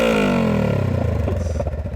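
A 2022 Honda Rebel 500 motorcycle fitted with a Shorty GP exhaust, essentially a muffler delete, revs loudly up close, the engine note sweeping down then settling into a rough, throbbing idle.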